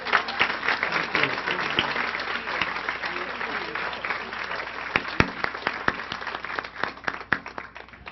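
Applause from the audience at a school board of education meeting: a crowd clapping steadily at first, then thinning into scattered individual claps over several seconds.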